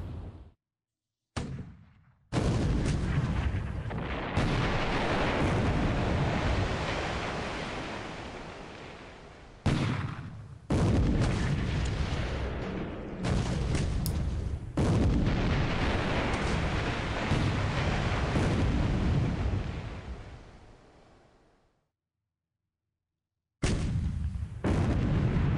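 Naval gunfire in a 1941-era war video game: loud, rolling booms and sustained rumbling blasts fill most of the stretch, broken by a few short drops into silence before the firing resumes.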